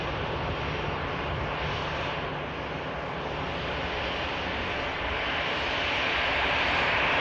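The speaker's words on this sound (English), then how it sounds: "capture the beautiful KLM Neo touching down" A KLM Airbus Neo airliner touching down at Manchester Airport gives a sustained, even engine roar that swells slightly toward the end, with some wind buffeting and no talk.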